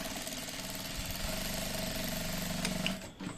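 Sewing machine stitching a combat pocket, a steady, close mechanical whir that runs without a break and slows slightly near the end, with no talking.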